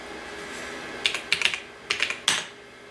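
Keys clatter in short bursts on the keyboard of a Toshiba T3200 laptop running DOS 5, a few of them sticking badly; about three clusters of close, crisp clicks over a faint background hum.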